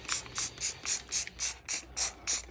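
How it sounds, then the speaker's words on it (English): A trigger spray bottle squirts cleaner into the drum of a Bosch Exxcel washing machine during a bearing replacement, about nine quick, evenly spaced hissing bursts, close and alone. "we're just gonna spray that all in there"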